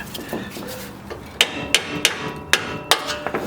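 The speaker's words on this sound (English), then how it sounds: "I am going to give this a tappy tap tap to break these free." Hammer tapping on a 2014–2020 Ford F-150 front strut assembly to break it free, a series of six or seven sharp metallic strikes in uneven rhythm, close and loud over a low workshop background.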